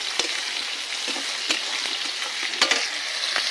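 Capsicum and tomato fry in a pan for a chicken dish, a steady soft sizzle broken by sharp scraping strokes of a spatula stirring at irregular moments, with no talking.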